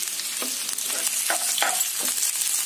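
Okra pieces frying with onions in a pan, a soft steady sizzle broken by several scraping strokes of a stirring spoon; no talking.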